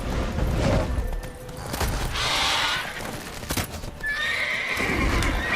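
A horse neighs loudly amid clip-clopping hooves in the video game Witcher 3, with sharp bursts of gunfire cracking through the busy, close-up scene.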